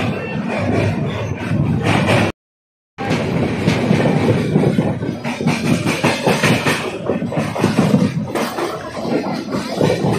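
The Amritsar–Lalkuan Express rolls steadily along the rails departing Roorkee station in India with a continuous rumbling, clattering roar, briefly cut off by a short gap of silence before resuming.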